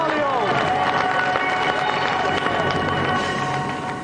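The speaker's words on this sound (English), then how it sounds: "So let's give another round of applause for our two guests today, Philip Tufnell and Adam" Steady, dense applause from a TV studio audience, loud and sustained throughout with some cheering mixed in.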